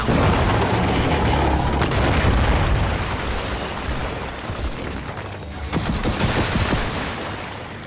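Gears of War 4 airstrike with heavy, sustained booming explosions layered over rattling gunfire, loud and dense throughout with a fresh blast burst near the end.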